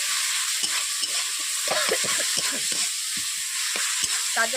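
Onions frying in a pan for a fish curry, a steady bright sizzle with repeated scraping and stirring knocks from a spatula scattered irregularly across the clip, close and clear with no talk.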